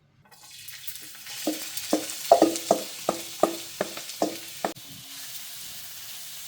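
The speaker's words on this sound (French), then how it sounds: "Ensuite, on va faire chauffer de l'huile d'olive" Olive oil heats in a pan, rising into a soft hiss broken by about eight regular, sharp scraping strikes, then settling back into a quieter sizzle.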